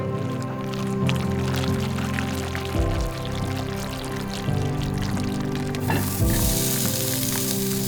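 Pork sizzles and crackles steadily as it crisps in a hot pan, with occasional scraping and stirring sounds over the frying.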